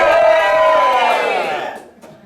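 A bar crowd bursts into loud shouts and hollers right after the last ringing guitar string fades, many voices overlapping near and strong, then trailing off quickly to a few faint calls.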